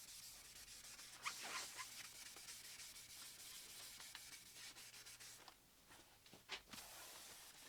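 Hand sanding with a sheet of sandpaper during a build, a steady close scratchy rubbing with a few sharper strokes and brief pauses, no talking.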